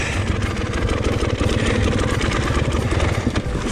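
A two-stroke TPI enduro motorcycle engine runs steadily and loudly up close, a dense rumbling drone during wet-weather riding with no pauses.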